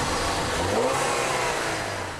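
A 2-litre EcoBoost turbocharged engine in a 2013 Ford Escape pulls under acceleration, a steady mid-pitched drone with broad road and wind noise, close and even in level, easing slightly near the end.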